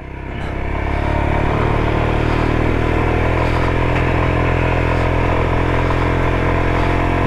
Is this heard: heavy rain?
no